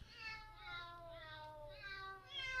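Cat meows from the Cat Piano iPad app play in a series of drawn-out, wavering cries, soft and somewhat thin over a low background hum.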